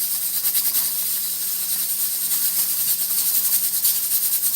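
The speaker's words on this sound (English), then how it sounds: "We're moving around while that pressure cooker continues doing what it has to do." A pressure cooker gives off a steady, loud hiss of escaping steam during cooking, holding an unbroken high-pitched rush through the whole stretch with slight pulsing and no voices.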